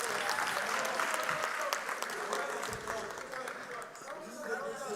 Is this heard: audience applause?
yes